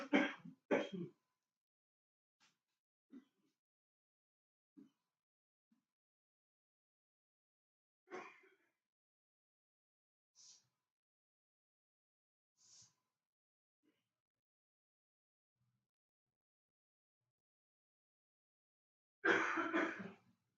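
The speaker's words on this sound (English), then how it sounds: "I ain't been coughing like this since I was a kid." A person coughs and clears his throat in scattered, separate bursts across a quiet stretch, with a strong fit at the start and another at the end, close and fairly loud against near silence.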